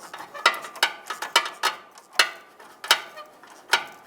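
A hand ratchet clicks in quick, uneven bursts while snugging a nut during a crankshaft sensor replacement on a 2007-2015 Mazda CX-9. The sharp, close ticks come in short runs with tiny pauses between strokes.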